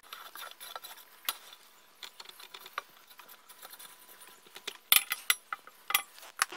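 A KitchenAid stand mixer kneading sourdough sandwich bread dough, with irregular clicking and clattering knocks over a faint mechanical whir, including a louder cluster of sharp clacks near the end.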